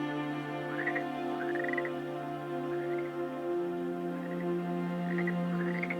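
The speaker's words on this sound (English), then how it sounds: "The lower water frog lives in one small stream in the Atacama" Lowe's water frog, an Atacama species, croaks in a small stream, giving soft rising chirps repeated several times over a steady low background hum.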